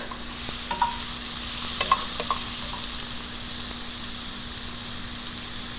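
Sliced ginger hits hot sesame oil in a pan for a Chinese-style vegetable Manchow soup, giving a bright continuous sizzle, close and fairly loud, with a few light clicks of stirring near the start.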